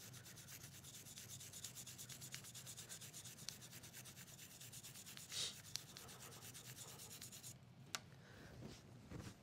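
Quiet, rhythmic scrubbing as a bristle brush is worked back and forth in a Taurus Raging Hunter revolver barrel with solvent, a steady rasping with a few small clicks.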